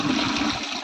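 Water pours into the coolant radiator of a Sonalika tractor under repair, a dense, continuous rushing splash close by, steady throughout the short moment.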